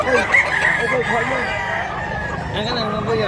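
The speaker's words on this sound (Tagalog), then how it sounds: "Naghangit manok mga idol" Roosters at a Cebuano chicken seller's place crow loudly and repeatedly, overlapping one another with clucking fowl mixed in, a dense, continuous poultry chorus close by.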